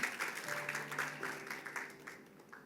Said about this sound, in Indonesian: silakan berikan tepuk tangan buat Tuhan kita yang luar biasa